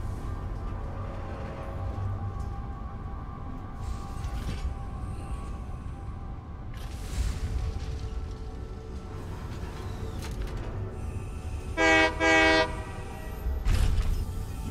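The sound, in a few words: train horn honking in a video game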